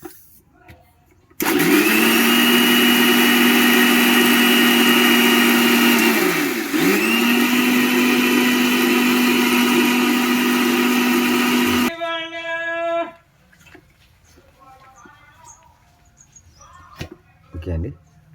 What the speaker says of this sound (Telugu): మిక్సీ అయితే పట్టేసాం